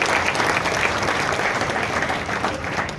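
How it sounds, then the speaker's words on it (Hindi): Sustained audience applause at a business meeting in Satna, steady and dense clapping from a crowd throughout, fairly loud and continuous. "एक बार मैम के लिए ताली बजनी चाहिए"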